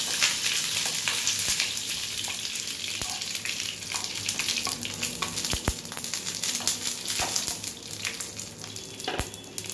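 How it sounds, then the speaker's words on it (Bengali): Mustard seeds and two dried red chillies sizzle steadily in hot mustard oil, a dense continuous crackle with sharp pops scattered throughout and no talking. "সর্ষে ফোড়ন দিয়ে দিলাম আর 2টো শুকনো লঙ্কা দিয়ে দিলাম।"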